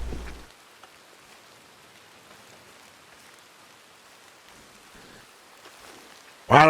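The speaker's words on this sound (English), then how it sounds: "It's coming down hard." Heavy rain falls steadily in the Red Dead Redemption 2 roleplay world, a soft broadband hiss that stays even throughout, with a louder burst of sound cutting in at the very end.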